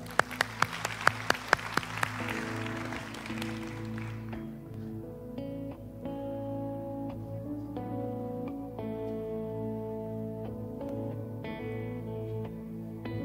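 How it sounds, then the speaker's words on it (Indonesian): Brief scattered clapping from a church congregation before a song, a few sharp claps in the opening seconds, then sustained piano or keyboard chords take over and ring on alone. "Tepuk tangan dulu dong."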